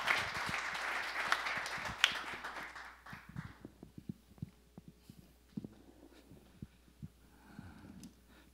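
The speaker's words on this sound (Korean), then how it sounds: "우리 큰 박수로 우리 정영 목사님 모시도록 하겠습니다." An audience at a church prayer-meeting workshop claps to welcome a pastor to the stage, with loud applause at first that quickly thins out to scattered individual claps and quiet room noise.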